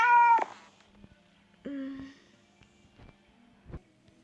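A cat in a video game gives a loud, clear meow followed by a shorter, quieter second meow, then soft clicks and faint thuds in otherwise quiet surroundings.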